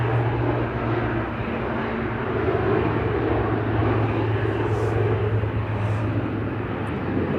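A departing airliner on flight ACL 72 at Manchester Airport gives a steady, broad roar that holds at an even loudness for the whole stretch, with a low engine hum running beneath it.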